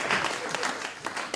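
An audience at a magic show claps in a short, dense burst of applause. The hand-claps are close and fairly loud.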